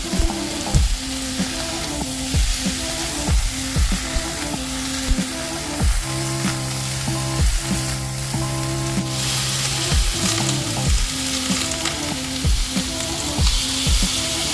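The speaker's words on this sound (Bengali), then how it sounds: "আলুগুলো একটু হালকা ভাজা হয়ে যেতে এর মধ্যে বেগুন দিয়ে দিয়েছে" Potatoes and eggplant fry in a pan for a fish curry, sizzling loudly and continuously while a spatula scrapes and stirs in a regular rhythm.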